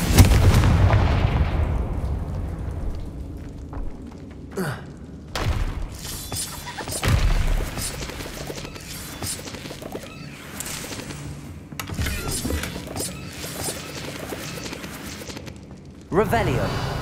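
A Confringo blasting spell explodes in Hogwarts Legacy, with a heavy boom opening the stretch and further sharp blasts and crashes amid game sounds, while a voice calls out the spell.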